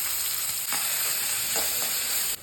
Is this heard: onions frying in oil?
yes